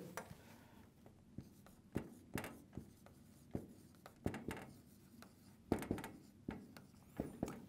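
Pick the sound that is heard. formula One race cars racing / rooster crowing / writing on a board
writing on a board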